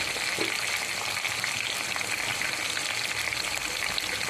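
Onions fry with turmeric in plenty of oil for a potato and brinjal curry, giving a dense, even sizzle that runs unbroken and fairly loud from start to finish.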